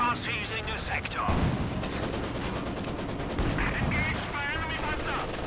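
Maxim machine gun fire in a Company of Heroes 2 match, rapid bursts and scattered gunshots blending into a dense battlefield din, with a voice talking over it throughout.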